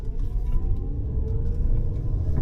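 A 2011 BMW E92 328i cruising on a Los Angeles road gives a steady, close cabin rumble with a smooth engine hum that holds even throughout, with no voices.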